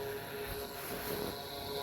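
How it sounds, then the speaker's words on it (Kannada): An airplane engine runs in the Blood Box 2 simulator game, a faint, steady droning hum with a thin whine above it, with no talk. "ಈಗ ಸ್ಟಾರ್ಟ್ ಆಗಿದೆ ಏರೋಪ್ಲೇನ್."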